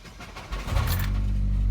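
A 2004 Saab 9-3 car engine cranks and catches, rising from a quiet start into a steady, loud low idle rumble close by, with no talking.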